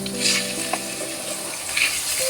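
Small cubes of chicken frying in a pan with sautéed garlic give off a steady, close sizzle, with a few brief stirring scrapes and no voices.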